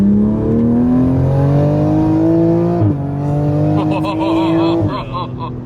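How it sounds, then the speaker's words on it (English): A 2020 Toyota Supra fitted with a big turbo pulls hard on an open road, engine rising steadily in pitch through the gears with brief dips at each shift, loud and close from inside the cabin. "So first 2020 Supra pulls, and it's one with the big turbo."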